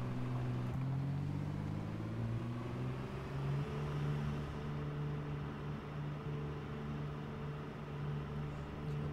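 Engine of a 4x4 car in the video game Project Zomboid, starting and then idling with a steady low rumble, fairly quiet and continuous with no talk over it.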